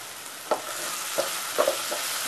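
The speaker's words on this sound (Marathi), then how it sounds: "हे चांगलं परतून घ्यायचं." Chopped garlic, green chili and onion sautéing in a pan for a Maharashtrian ola javala breakfast dish, a soft steady sizzle with a few brief stirring scrapes, close and moderately loud, no voices.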